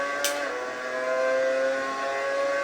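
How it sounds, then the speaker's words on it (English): A race car in a simulator at Monza roars at full throttle out of the Parabolica, a sustained high engine tone with layered harmonics, steady and close, after a brief sharp click at the start. "Now braking for the Parabolica. Full throttle."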